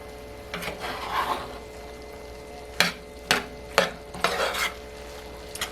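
A spoon stirs black beans into a butternut squash enchilada skillet, soft scraping and sizzling followed by several sharp separate scrapes against the pan, close by.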